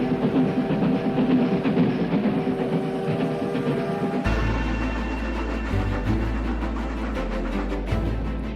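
A train carrying travellers from Rio de Janeiro into the interior of Brazil rumbles along the rails with a steady rhythmic clatter, then shifts midway into a heavier, deeper rolling drone.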